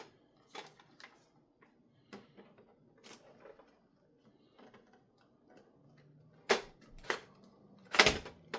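A plastic G.I. Joe Classified Dragonfly helicopter toy being assembled: faint handling clicks, then a couple of sharp plastic snaps near the end as a part locks into place, with no talk.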